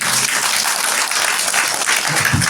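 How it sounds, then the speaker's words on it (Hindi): Steady, loud applause from a church audience at a Christmas message fills the whole moment, dense clapping without pause. "आप ताली बजा सकते हैं।"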